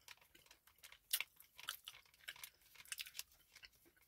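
Crunchy gum chewed up close, a quiet run of repeated crisp crunching and biting sounds in an uneven rhythm, with no talking.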